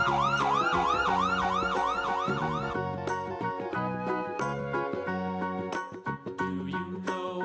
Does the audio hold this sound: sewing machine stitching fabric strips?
no